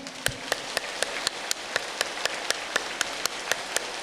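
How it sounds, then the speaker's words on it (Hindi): A group claps in unison, a sharp, even beat of about sixteen synchronized claps spaced roughly a quarter second apart, fairly faint over a quiet room background. "तालियां।"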